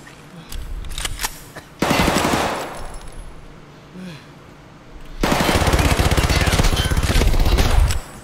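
PP-19-01 submachine gun firing in Escape from Tarkov, two loud bursts of rapid automatic fire, each lasting a few seconds, with a few scattered single shots and pauses between.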